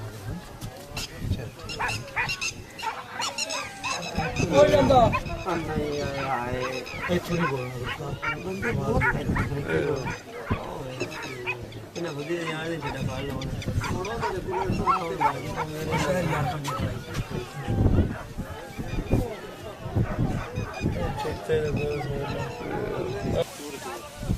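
A dog barks and yips intermittently amid ongoing conversation and background commotion, the barks fairly close and mixed under overlapping voices.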